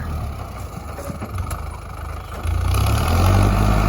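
Kubota L4708 tractor's engine running, a steady low rumble that grows louder and heavier partway through, with no talking over it.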